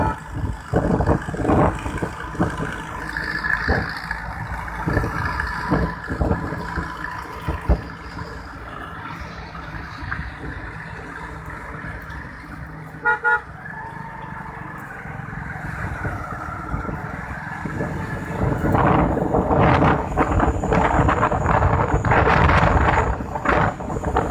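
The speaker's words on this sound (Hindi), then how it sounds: "जो ट्रैक्टर आज लेकर निकले हैं किसान दिल्ली को कूच कर चुके हैं" Farmers' tractors roll out for a protest tractor parade toward Delhi, giving a continuous rumbling drone with wind buffeting and passing engine noise that swells louder near the end.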